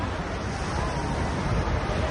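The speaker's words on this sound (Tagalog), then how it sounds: "Grabe yung alon, lakas." Strong ocean waves surge onto a beach in a steady, loud, broadband roar with wind buffeting the microphone, continuous throughout and with no voices.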